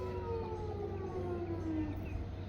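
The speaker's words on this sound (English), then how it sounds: "Hear the tornado sirens going off." Tornado sirens wail far off on a calm day, a faint steady rising-and-falling tone that hangs over low background rumble with no other sounds.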